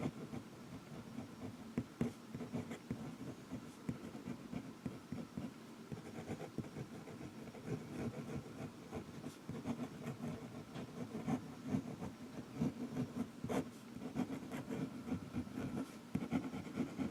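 Pen scratching across Tomoe River paper with fountain pen ink, a faint, close, continuous rustle of strokes with small ticks and pauses, quiet and alone without talk.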